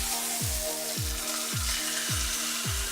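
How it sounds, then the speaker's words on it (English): A ribeye steak sizzles in a cast iron pan, a continuous bright hiss held close. A low rhythmic thumping pulse repeats about every half second underneath. "Lean it on the side of your cast iron so the meat gets cooked on the bottom."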